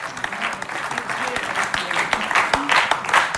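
Loud, close applause from a studio audience on a TV music show, thick clapping that swells and pulses for several seconds with a voice faintly underneath.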